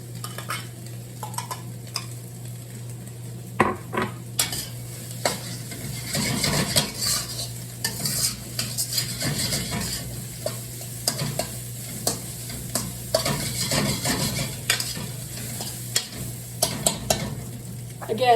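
Rice stir-fried in a pan, steady sizzling with repeated scraping and clanking of a utensil against the pan as it is tossed and stirred up close, no one speaking.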